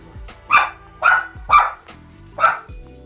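A dog barks inside a house, four loud, close, evenly spaced woofs about half a second apart, with no talk between them.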